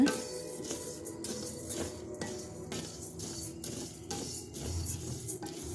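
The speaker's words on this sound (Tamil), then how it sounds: "ஒரு டம்ளர் கடலப்பருப்பு ஒரு டம்ளர் உளுந்து போட்டு நான் நல்லா வறுத்துக்கிட்டுருக்கேங்க" Chana dal and urad dal dry roasting in a pan over a wood-fired stove for idli podi, with steady rhythmic scraping and rattling strokes of a ladle stirring the lentils, close and fairly quiet.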